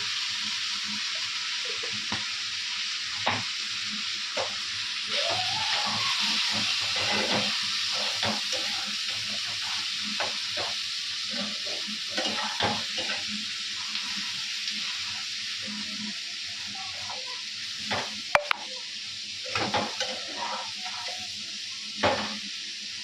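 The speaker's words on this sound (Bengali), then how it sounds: "এখানে ভেটকি মাছের তেল ভাজা" Continuous loud sizzling of bhetki (barramundi) fish fat frying in hot oil, a steady crackling hiss with occasional pops and clinks from stirring.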